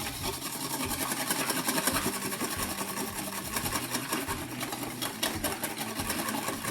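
Eggs are whisked in a bowl for scrambled eggs, making a fast, steady rhythmic clatter close by with no talk.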